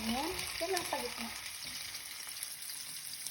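Garlic and onion sautéing in a pan for a turkey kaldereta give a quiet, steady frying hiss with some clatter, while a voice speaks over the start of it.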